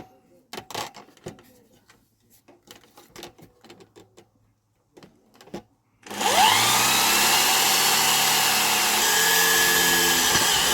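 A power drill bores through a piece of wood under constant pressure, whining loudly and steadily for about five seconds after a stretch of quiet shuffling and handling noises.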